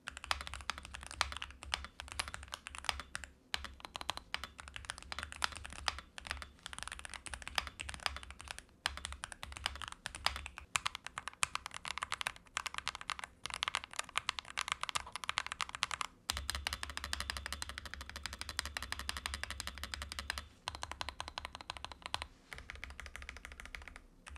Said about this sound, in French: je vais vous faire tester un petit peu le son que sort ce clavier au niveau des touches